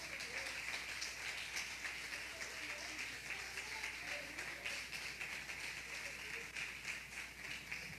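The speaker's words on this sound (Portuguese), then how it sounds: "Pode aplaudir o Senhor," A church congregation claps during a Portuguese-language sermon, the clapping faint and distant, with rhythmic patter running steadily through the whole stretch.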